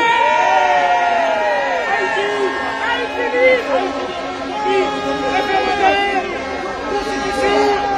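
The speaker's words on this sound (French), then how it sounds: "Est-ce qu'on peut l'applaudir?" A crowd at a political gathering in Haiti cheers and shouts for a newly introduced speaker, a dense swell of raised voices close by with chatter running throughout.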